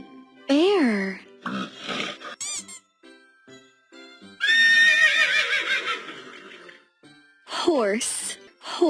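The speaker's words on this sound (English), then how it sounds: "Horse, horse." A horse whinnies in loud, descending neighs, opening with one strong call and ending with another, with spoken words between them.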